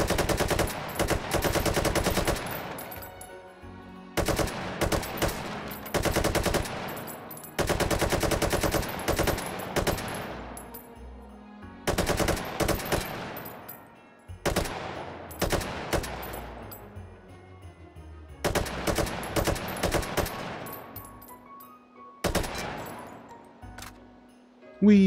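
An RPK machine gun with a drum magazine fires in the VR game Hot Dogs, Horseshoes & Hand Grenades: loud close bursts of rapid automatic fire, about seven long strings separated by short pauses.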